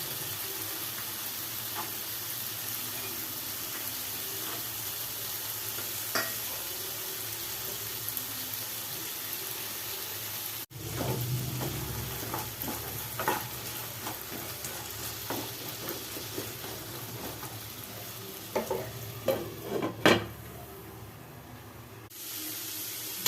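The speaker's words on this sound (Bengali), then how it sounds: "এইটাকে আমি একটু নেড়ে ছেড়ে নিয়ে পাঁচ মিনিট মতন রেখে দেবো ঢাকা দিয়ে যাতে একটু ভেজেও যায়" Okra, potato and soaked chickpeas frying in oil in a pan, a continuous close sizzle with a sharp break partway through, followed by scattered spatula scrapes and clattering stirs over the hiss.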